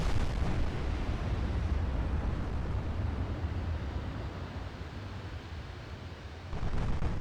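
Warship main guns fire in a naval battle in Ultimate Admiral Dreadnoughts, a loud, continuous rumbling roar of blasts that dips slightly and then swells again near the end.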